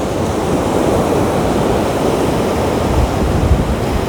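Sea waves surging around a coast, a continuous loud roar of surf with wind noise, steady throughout with no voices.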